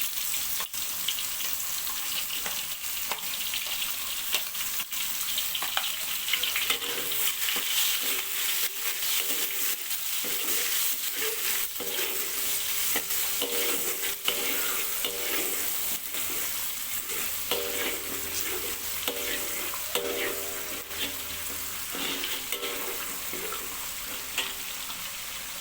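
Garlic, shallots and chili stir-frying in a hot pan, giving a steady close sizzle throughout with the scrape and clink of a utensil stirring now and then.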